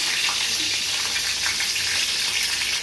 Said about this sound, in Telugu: ఎల్లుల్లిపాయలు, కరివేపాకు, ఆవాలు, ఎండుమిర్చి, మెంతులు, జీలకర్ర అవి వేగిన తర్వాత ఇవన్నీ వేసుకొని